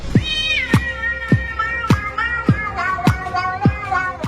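A cat meows over and over at close range, about eight loud, evenly spaced calls, each sliding in pitch, with no talk.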